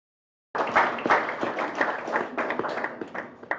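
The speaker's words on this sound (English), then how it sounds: "Give Dr. Manu Chandari a round of applause." Applause from a symposium audience for an honored guest bursts in suddenly after silence, a moderate crowd clapping with distinct individual claps audible, gradually easing over a few seconds.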